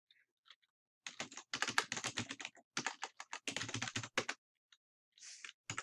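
Typing on a computer keyboard while entering commands during a network lab troubleshooting single-area OSPF: close, crisp bursts of rapid keystrokes separated by short pauses, with no talking.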